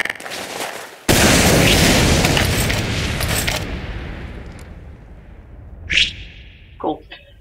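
A heavy rocket explosion in Team Fortress 2 erupts and roars into a rumbling, fading tail, followed by a couple of sharp, brief whooshing game effects.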